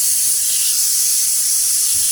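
Steady loud hissing whistle of steam escaping from a pressure cooker, continuous and unbroken, heard close up without any talk.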